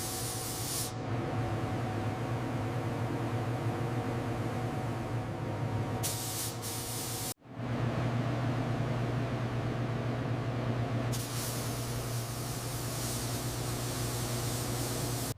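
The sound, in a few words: paint spray gun spraying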